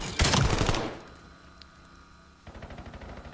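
SMG gunfire in a Call of Duty League match: a loud burst of rapid automatic fire, a quieter stretch, then another sustained burst of shots at the end.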